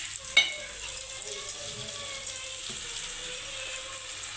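Ingredients stirred and frying in a pan with ginger-garlic paste, a steady sizzle running throughout, marked by a sharp scrape or knock near the start and soft utensil clinks scattered across the clip.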